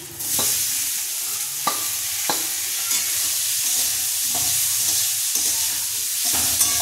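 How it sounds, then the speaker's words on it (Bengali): Papaya sizzles steadily in a hot pan for chutney, with a handful of sharp scrapes as a utensil stirs it at irregular intervals. "ভাজা হয়ে গেছে, পেঁপেগুলো ঢেলে দিচ্ছি।"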